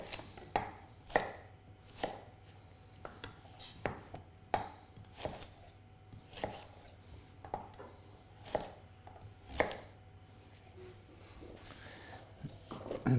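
Knife chopping carrots into bite-sized rounds and then celeriac on a board, with a steady series of sharp, close thuds spaced about half a second apart and no talking.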